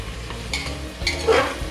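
Onions with a pinch of salt are stirred in hot oil for a Bengali mutton kosha, a spoon scraping the pan in a few short strokes over a steady close sizzle.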